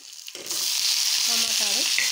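Green chillies fry in a pan with a steady, bright sizzle and faint stirring scrapes, close and continuous with no talk.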